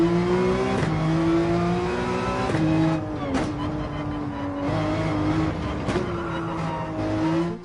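A race car engine in Gran Turismo 7 drones loud and close, its pitch dropping and climbing through repeated gear changes as the car slows under engine braking and accelerates again, with a faint tire squeal.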